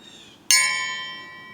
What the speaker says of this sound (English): ring that bell, and Mushy the Cowboy Cook will see you down